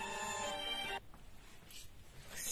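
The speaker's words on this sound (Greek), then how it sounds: "Ξέχασα να το βάλω στο κινητό μου σε λειτουργία να μην παίρνουν τηλέφωνα." A mobile phone rings with a bright tonal ringtone for about a second, then cuts off, leaving quiet room noise with a faint return of the tone near the end.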